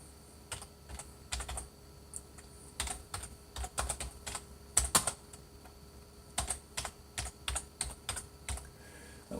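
Someone types on a computer keyboard during a home computer setup: bursts of quiet, close key clicks in irregular clusters, separated by short pauses, with no speech.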